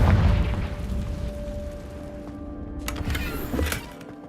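An explosive blast from a Confringo fire spell in Hogwarts Legacy rings out loud at the start, followed by a couple of sharper bursts with crackling debris over a steady game backdrop.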